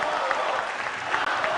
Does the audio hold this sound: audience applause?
yes